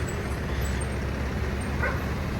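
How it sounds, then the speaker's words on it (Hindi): Dogs barking and yipping in a scuffle, a few sharp barks and whimpers over steady low traffic rumble in an outdoor street setting, no talk. "कुत्तों की बहुत खतरनाक लड़ाई होगी भाई यहाँ पे"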